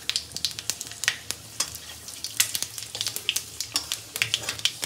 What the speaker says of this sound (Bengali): এবার 1 চামচের মতন 5 ফোড়ন দিয়ে দিলাম।